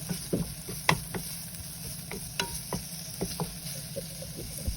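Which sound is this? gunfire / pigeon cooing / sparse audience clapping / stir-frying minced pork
stir-frying minced pork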